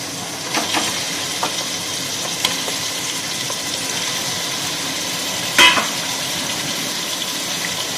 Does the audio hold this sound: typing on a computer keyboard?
no